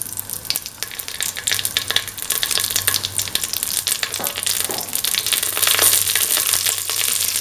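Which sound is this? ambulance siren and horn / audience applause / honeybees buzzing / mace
mace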